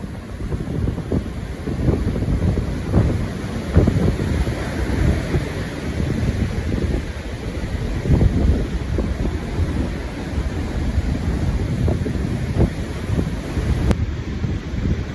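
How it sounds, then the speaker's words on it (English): Strong wind at the beach buffets the microphone in loud, rough gusts, with a low rumble and surf-like wash underneath, steady for the whole stretch with no talking. "It's very windy. Sorry for the wind."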